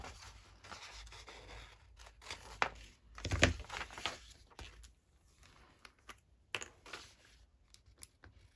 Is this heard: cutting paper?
yes